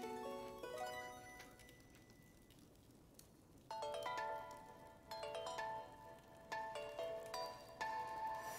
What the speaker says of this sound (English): Oh, sorry, that's my phone.